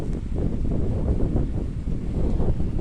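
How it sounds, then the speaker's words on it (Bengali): Strong, hot morning wind buffets the microphone in a continuous low roar, loud and gusty, with no voices. "আজকে এত সকাল থেকে ঝড় দিচ্ছে বাতাস কিন্তু বাতাসটা গরম"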